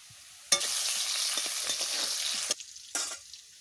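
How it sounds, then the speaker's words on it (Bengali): Potatoes frying in oil in a pan give a loud, steady sizzle for about two seconds, set off by a sharp clatter, then stop abruptly before a short second burst of crackle. "আলু ভাজা হয়ে গেছে"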